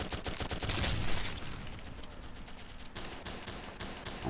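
Dense, loud automatic gunfire in a military shooter video game, with heavy continuous volleys at first that thin into steadier, slightly lighter firing.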